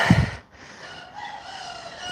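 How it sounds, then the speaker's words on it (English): A cockerel crows in the distance behind a home Pilates session, its drawn-out call steady beneath a short low thump at the start. "hear the cockerel"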